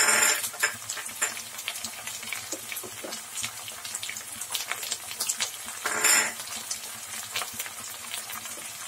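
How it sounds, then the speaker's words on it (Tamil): Coriander, curry leaves and mint are sautéed in a pan, giving a quiet crackling sizzle broken by sharp clatters and scrapes of a utensil against metal, with no talking. "கொத்தமல்லி கருவேப்பில புதினா எல்லாத்தையும் போட்டு வதக்க வேண்டியதாங்க."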